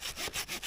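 Hand saw cutting through wood outdoors in snow, with about three rapid, close, rasping back-and-forth strokes in a short burst.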